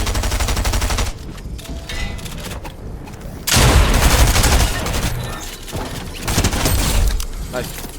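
SMG fire in the Fortnite video game, a dense rapid burst at the start followed by scattered shots and a loud sustained volley of automatic fire, with game sounds throughout.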